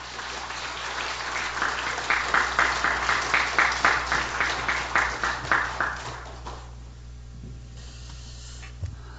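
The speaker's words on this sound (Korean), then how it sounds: "박수로 환영하겠습니다" Applause from a church congregation at a Korean worship service, a dense wash of clapping with regular swells that fades after about six seconds, leaving a quiet room hum.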